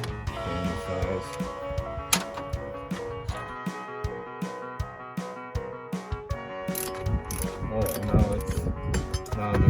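A ratchet clicks in quick uneven bursts while working a bolt loose on a 1993 Jeep Cherokee engine during a water pump replacement, close and metallic against faint shop clatter.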